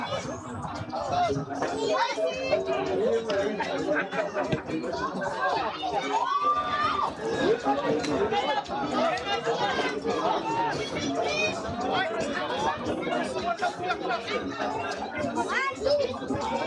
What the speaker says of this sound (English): The crowd has come out in their numbers.